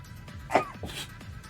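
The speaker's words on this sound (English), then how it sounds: "I gotta sneeze." A single sharp sneeze from a person indoors, close and loud, with a short breath before it and faint room noise after.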